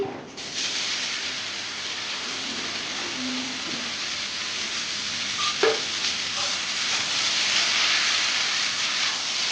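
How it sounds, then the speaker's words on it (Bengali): Chopped bottle gourd hits a hot pan with prawns, setting off a loud, continuous sizzle and frying hiss that holds steady throughout, with a few faint clinks of stirring. "এবার এখানে আমি লাউ কুচি কুচি করে কেটে রেখেছিলাম সেই লাউটা দিয়ে দিচ্ছি"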